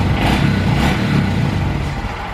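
A 2022 Honda Grom idles steadily close by, fitted with a new off-road exhaust, giving a continuous low burbling engine note with no voices over it.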